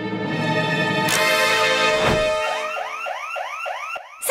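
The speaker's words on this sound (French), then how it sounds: "Il faut sonner l'alarme." A car-type alarm rings out in a school classroom, a loud repeating electronic whoop with rising sweeps that starts about halfway through over a sustained tone and keeps cycling steadily to the end.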